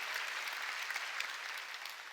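A congregation claps together during a Sunday church service. The applause is steady and fairly faint throughout.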